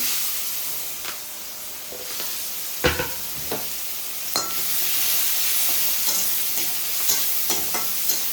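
Green chilies and onion sizzle in a hot pan with a continuous frying hiss, broken by a few sharp clinks and scrapes of a spoon stirring, steady and close throughout.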